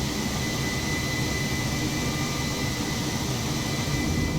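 Jet airliner engines at climb thrust in Microsoft Flight Simulator 2020, flying out of London Luton, a steady loud roar with a high whine on top, continuous and unbroken, with no voices.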